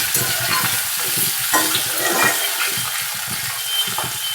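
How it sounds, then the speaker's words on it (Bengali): Sliced onions fry in a pan over a medium flame, giving a loud, dense sizzle with soft stirring scrapes throughout and no voices. "পেঁয়াজ দিয়ে ভালো করে আমি পেঁয়াজটা ভাজা ভাজা করে"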